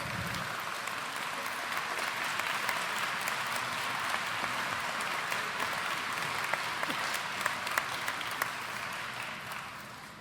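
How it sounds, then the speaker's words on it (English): An audience claps warmly for award honorees at an afternoon awards presentation, a dense, sustained round of applause from a large room that carries on evenly for about ten seconds before starting to fade. "Can we give all of our honorees a warm round of applause?"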